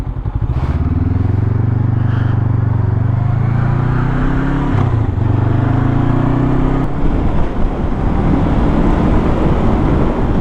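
A car passes close on the road beside a motorcycle, its engine and tyre noise swelling loud and steady with a rising pitch sweep, then a second pass follows, with no talk over it.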